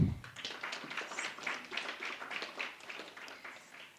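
A crowd claps in a dense, steady patter of applause that carries on for several seconds at moderate volume.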